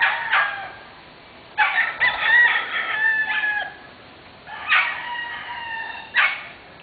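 A rooster crows three times in a row, loud and close, each call a long harmonic cry with short gaps between, over a quiet background.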